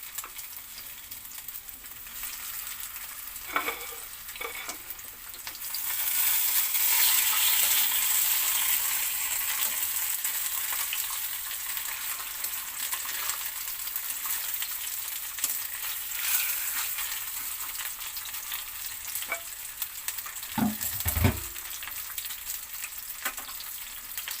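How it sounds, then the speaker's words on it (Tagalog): Tilapia fish frying in a hot pan, a steady crackling sizzle that rises as the fish goes in, with occasional louder pops and clatters of handling. "Pwede na natin ipirito ito."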